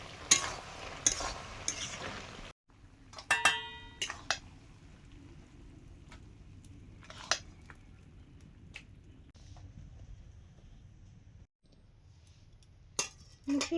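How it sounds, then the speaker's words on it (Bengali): Dried lentil bori (masoor and biulir dal dumplings) fry in a pan at home, quiet sizzling under intermittent stirring, scraping and clinks of a utensil against the pan, with brief pauses between bursts. "একটু বড়ি ভাজাও করব।"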